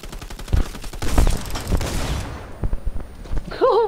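Rapid machine pistol fire in Fortnite Battle Royale, loud bursts of closely spaced shots rattling off in quick succession, followed by a brief pause and a short electronic game tone.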